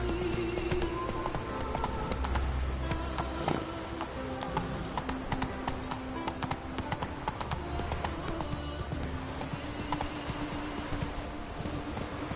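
Horse hooves galloping in the video game Witcher 3, a steady rapid clip-clop running continuously under game music and ambience, moderately close but fairly quiet.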